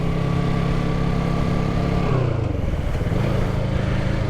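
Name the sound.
motorcycle engine running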